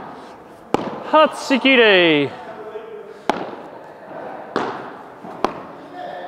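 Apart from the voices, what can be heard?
padel ball drop shots hit with Royal Padel racket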